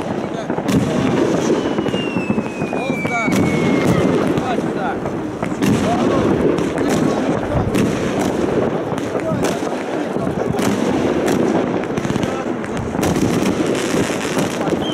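A city fireworks display in Kohtla-Järve, Estonia, booms and crackles continuously, with dense overlapping bursts, whistling rockets and sharp pops, while people talk nearby.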